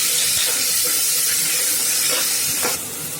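Chili powder and spices sizzling in oil in a pan while cooking tomato rice, a steady loud hissing fry throughout with small crackles near the end.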